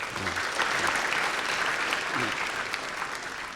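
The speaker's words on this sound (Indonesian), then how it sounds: "Tepuk tangan buat STKIP Surya" Graduation audience applauding for STKIP Surya at its first graduation ceremony in 2015, a steady, dense wash of clapping throughout, with a voice briefly surfacing at the start and again midway.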